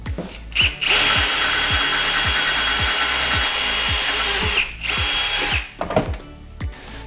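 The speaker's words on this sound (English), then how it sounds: "So we're gonna drill out this side" A power drill whines loudly and steadily for several seconds, pausing briefly twice, with a grinding, rubbing edge as it bores out a hole on a twin-turbo LSX Fox Mustang build.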